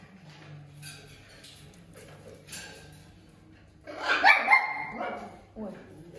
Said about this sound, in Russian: Эй, а на кого там гавкаешь?